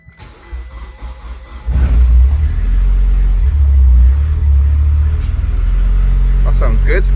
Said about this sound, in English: We're going to turn the fuel pump on and also the wideband, and hopefully it starts up.